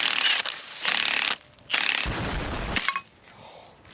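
Impact wrench removing a coilover top hat off a car strut, heard as loud bursts of rattling, ratcheting hammering broken by short pauses, with one heavy low burst near the middle, close up with no talking.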